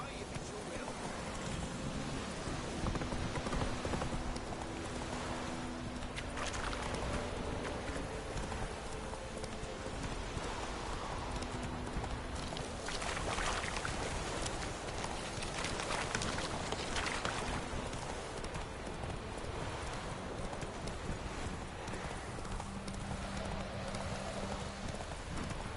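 Horse hooves clip-clopping at a steady gallop in The Witcher 3, a continuous rhythmic drumming over outdoor ambience that sounds like rain, with some talk mixed in.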